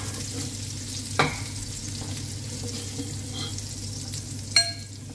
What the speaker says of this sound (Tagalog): Unting gisa-gisa lang po.